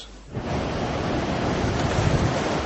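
Sea waves surge and wash continuously as a small grey submarine dives beneath them, a dense roar with some wind buffeting that swells in after a brief quieter start.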